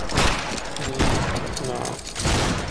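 Massed musket volleys in the Battle Grounds III video game, a linebattle with several loud bursts of overlapping shots in quick succession, close by, with voices talking amid the gunfire.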